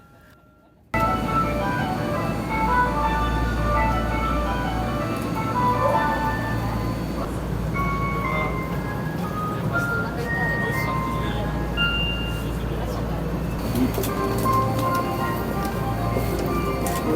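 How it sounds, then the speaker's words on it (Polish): Tokyo metro station melody jingles ring out on a busy platform, bright tonal chimes repeating over a steady low rumble of trains and station bustle, with faint voices in the background. "każda stacja metra ma swoją własną melodię"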